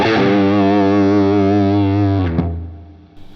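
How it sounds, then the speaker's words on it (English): A Line 6 Helix cranked guitar amp model rings out a loud, sustained distorted chord with a chewy harmonic undertone, then cuts off abruptly and leaves a short fading tail. "When you crank it, you get this kind of chewy, like harmonic undertone to it."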